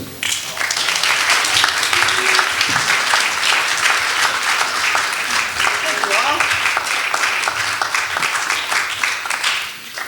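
Audience applause fills a Roots & Wings Coffeehouse concert in Norwich, Vermont, a dense, steady wash of many hands clapping close by for the full length, with a few voices mixed in underneath.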